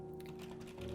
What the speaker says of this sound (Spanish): Teclado de la computadora.